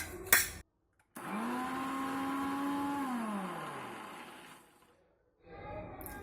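A kitchen mixer grinder whirs through ponnaganti leaf chutney with garlic. A quick blip comes first, then a steady high whine runs for a few seconds and winds down to a stop before a brief restart at the end.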